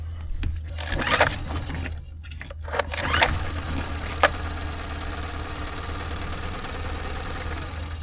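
A Tohatsu 9.8 outboard motor on a Cape Dory 28 sailboat is pulled over by hand a few times, then settles into a steady, fairly loud idle that continues to the end.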